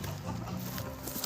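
A young rooster clucking on a farm, soft short clucks set against a steady wash of outdoor background noise, faint and somewhat distant.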